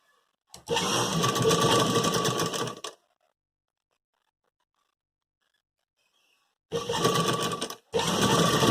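A sewing machine runs a seam on a suit collar: a steady burst of fast mechanical stitching, a long silent pause, then two shorter runs close together, nearby and loud.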